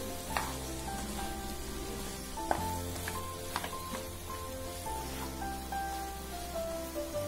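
Okra tossed with masala in a pan on medium flame gives a steady, close sizzle and fry with stirring scrapes and a few sharper clinks over the hiss, and no one talks.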